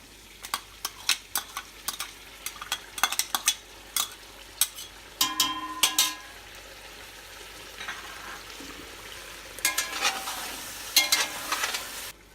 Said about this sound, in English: We'll fry it till the oil appears